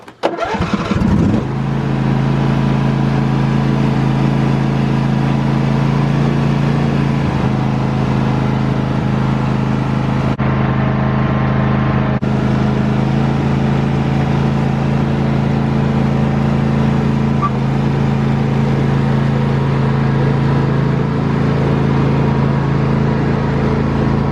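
A riding lawn mower engine cranks and catches, then settles into a loud, steady running drone with a low hum that holds for over twenty seconds, briefly dipping once partway through.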